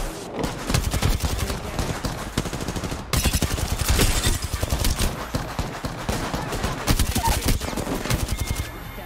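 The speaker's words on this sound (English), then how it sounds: "They spotted me. I'm taking shots." Rapid gunfire in the battle royale shooter Apex Legends, with dense bursts of automatic shots and sharp single cracks coming close and loud in clustered volleys.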